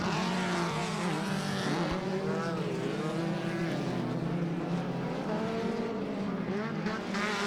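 Several pro off-road race buggies roar around a short-course track at a Victorville round, engines droning loud and steady with shifting pitches as they overlap, close and continuous throughout.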